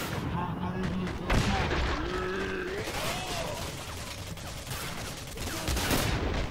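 Assault rifle gunfire in the shooter game Singularity, rapid bursts that go on almost without a break beneath someone talking, with game sound effects and music in the mix.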